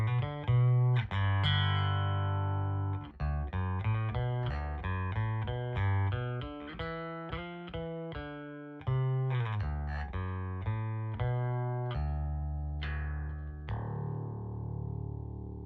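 Hohner B2A headless travel bass guitar playing a melodic line of distinct plucked notes, steady and close, with a clean sustained tone and no voices.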